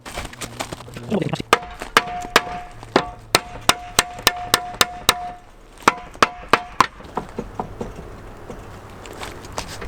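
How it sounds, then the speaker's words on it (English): A series of sharp, ringing hammer blows on a military Hi-Lift jack, struck in an uneven rhythm, some in quick runs, with a faint voice in the background. "give that a hit with the hammer."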